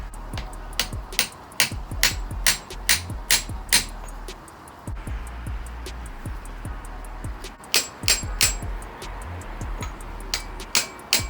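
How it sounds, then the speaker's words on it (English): A Ford Transit propshaft centre bearing is tapped on with a hammer against a 30mm socket, giving a long run of sharp, close metallic taps in quick irregular bursts with short pauses between them. "I'll go and grab a socket that's going to fit on the inside of that so I can tap it on"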